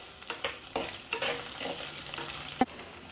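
Green chillies and curry leaves sautéing in oil in a pan with small onions: a soft, low sizzle with several scraping stirs of a spoon, fairly close, and one sharp knock near the end.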